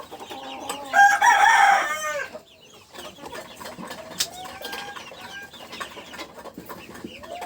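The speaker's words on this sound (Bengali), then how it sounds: "এই মুরগিগুলো পানি দেওয়ার সঙ্গে খাইতে আসতেছে" Fancy chickens on a poultry farm: a loud rooster crow bursts out early, then softer scattered clucks and calls continue close by over quiet background.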